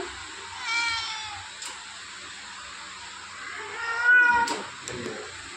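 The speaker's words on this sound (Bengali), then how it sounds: "এই যে দেখছেন বিড়াল" A cat meows twice, a short call early and a longer, louder one near the end, against a quiet background.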